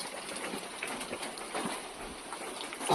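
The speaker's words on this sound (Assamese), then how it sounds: "একদম বৰষুণ বৰষুণ।" Rain falls on a cool morning, a soft steady patter with scattered brighter drips that stays fairly quiet throughout, with no voices.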